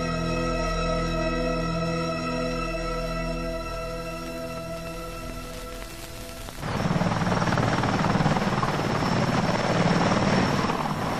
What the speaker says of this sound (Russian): Мощные вертолеты, способные в боевых условиях перебросить по воздуху современную военную технику